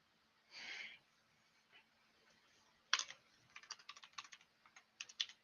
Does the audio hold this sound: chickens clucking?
no